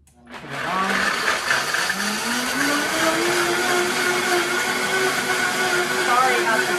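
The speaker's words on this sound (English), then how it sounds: "Put the cover on, make sure the Vitamix is on low, and then" A Vitamix blender starts up and runs on low, blending cauliflower mashed potatoes: a loud, steady whirring motor whose pitch rises as it spins up, then holds, close and continuous.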